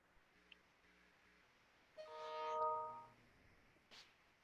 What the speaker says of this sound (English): What was that noise? Dinner bell? I think it was.